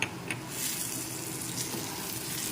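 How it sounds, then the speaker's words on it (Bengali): Green chillies dropped into thick cooked-down masala in a pan for a Bengali lote fish curry, giving a steady close sizzle and fry with faint stirring scrapes and no talk. "খুব ভালো করে মশলাটাকে তিন থেকে চার মিনিট কষিয়ে নিয়েছি এখন এর মধ্যে দিয়ে দিচ্ছি কাঁচা লঙ্কা"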